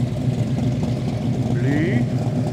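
A classic Ford Falcon GT rolls past at a car club gathering, its engine giving a steady, fairly close mid-pitched rumble throughout as people talk nearby.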